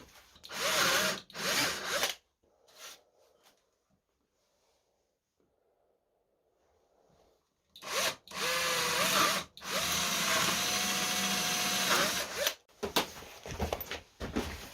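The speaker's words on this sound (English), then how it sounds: "I'm drilling a 10mm hole" A power drill boring a 10mm hole in wood whines in two loud bursts, with a quieter gap of faint handling noise between them.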